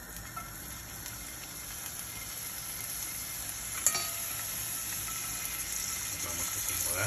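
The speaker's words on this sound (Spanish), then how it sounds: "Puesto a calentar mi sartén de hierro, estoy añadiendo aceite de oliva y vamos a colocar las gambas." Prawns fry in olive oil in a hot iron skillet, a steady close sizzle running throughout with one brief sharp clink or crackle in the middle.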